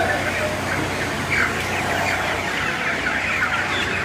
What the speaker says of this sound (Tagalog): Ito po yung mga manok ko.